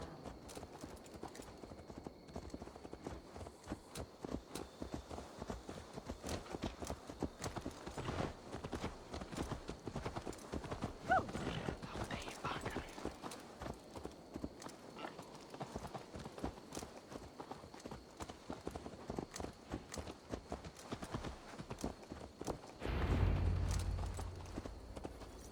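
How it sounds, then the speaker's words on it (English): Horse hooves clip-clop steadily at a walking pace in Assassin's Creed Valhalla, close and fairly clear over ambient game sound, ending with a brief louder low rumble. "Let's return the horse"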